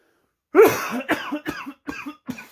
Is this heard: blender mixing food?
no